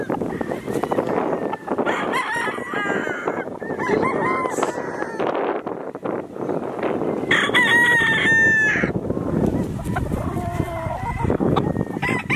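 Several gamefowl roosters at a game farm crow over one another, with loud drawn-out calls near and far, plus clucking and a goose-like honk in the background.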